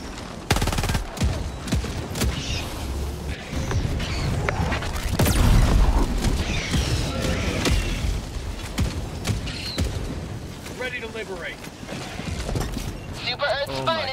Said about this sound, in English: Oh, my auto cannon killed me.